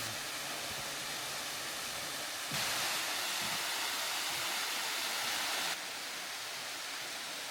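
Steady broadband rush of Yongyeon waterfall, a two-tier fall with a 10 m drop among sea caves on a volcanic coast, heard continuously; the roar swells noticeably louder through the middle stretch, then eases back.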